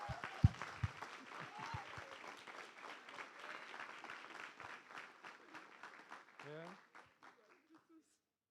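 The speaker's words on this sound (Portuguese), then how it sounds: "Aplauda Jesus, queridos." A church congregation claps in a dense, rhythmic burst, then the applause thins out and stops, leaving a voice speaking at the end.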